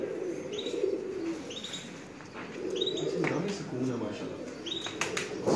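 Pigeons at a rooftop loft in Lahore give low, throaty coos in a few drawn-out phrases, fairly faint, alongside soft chirps and someone speaking nearby.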